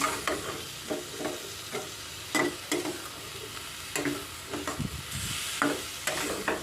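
Eggplant stir-fried with dried shrimp over a low flame makes a soft, steady sizzle, broken by repeated scraping strokes of a spatula against the pan at an irregular rhythm. The sound is close and fairly quiet, with no voices.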